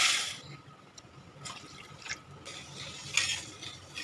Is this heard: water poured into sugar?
yes